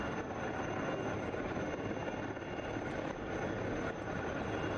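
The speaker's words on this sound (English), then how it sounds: "The Sea King 42 Charlie helicopter will extract the Marcos using small team insertion and extraction operation." A Sea King 42C helicopter hovers during a winching demonstration at a defence expo, producing a loud, continuous rotor and engine roar that holds steady throughout, with no voices.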